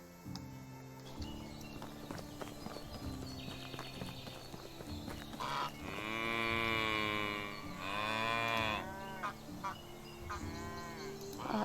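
Cattle in the medieval village survival game Medieval Dynasty give two long, drawn-out moos in the second half, heard over steady hoof clip-clops and quiet background music.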